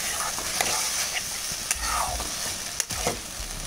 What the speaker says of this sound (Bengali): পেঁয়াজটাকে আমি একটু ভালোভাবে ভেজে নেব।